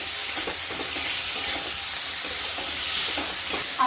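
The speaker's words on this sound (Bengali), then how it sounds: "আলু যেগুলো যে কুচিয়ে রেখেছি ওইগুলো দিচ্ছি" Chopped potatoes with salt sizzling steadily in a pan, with repeated scraping strokes of a spatula stirring them, close and continuous, no talking.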